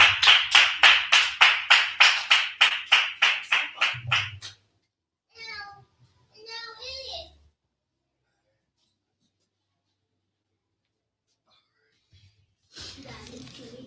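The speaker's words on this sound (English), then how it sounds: "Clap it up" Members of a class clap in unison, about a dozen crisp, evenly spaced claps in a quick steady rhythm, then brief talk, a long silence and a final burst of sound.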